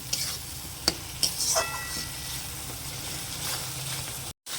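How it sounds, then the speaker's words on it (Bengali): Spice paste and ground tomato sautéing in a pan for a kundru and potato masala, a steady sizzle with a few sharp scrapes of a spoon near the start, close and continuous, with a brief dropout near the end. "দিয়ে আবারও কষিয়ে নেব যতক্ষণ না টমেটোর গন্ধটা বের হয়, কাঁচা গন্ধ।"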